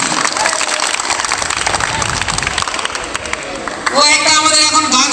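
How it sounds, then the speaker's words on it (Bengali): A school audience at a madrasah function claps together loudly and continuously, the applause swelling slightly near the end, with voices of the crowd mixed in. "ওই জন্য একটা জোরে হাততালি।"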